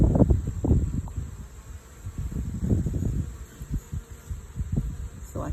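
Honeybees buzz around a troubled hive with few bees coming and going, a steady faint drone under bursts of low rustling and handling noise close by.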